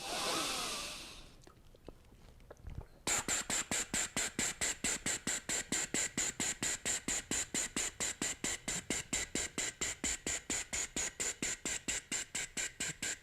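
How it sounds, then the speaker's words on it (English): Rhythmic breathing with the tongue tapping against the teeth, a quick even train of crisp clicks repeating several times per second after an initial breathy hiss. "where I tap my tongue to the back of my teeth or the roof of my mouth"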